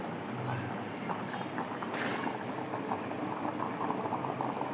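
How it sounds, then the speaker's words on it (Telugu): A pot of taro root stew (pulusu) with coriander bubbling on the stove, a dense steady simmer of popping bubbles heard close and fairly quiet with no talking. "పులుసు అయితే మరిగిపోయింది ఫ్రెండ్స్."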